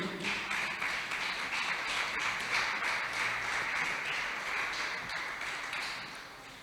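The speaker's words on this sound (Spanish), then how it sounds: "Dele un fuerte aplauso al Señor." A church congregation gives a round of applause to the Lord during a sermon, a moderate, diffuse clapping from a room full of people that fades gradually toward the end.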